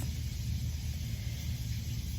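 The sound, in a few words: catfish frying in a pan, sizzling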